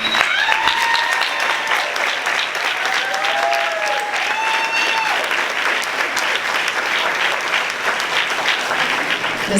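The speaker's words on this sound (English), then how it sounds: "One last round of applause." A graduation audience breaks into sustained, dense applause that fills the hall, with scattered cheers and a few whistles rising above the clapping.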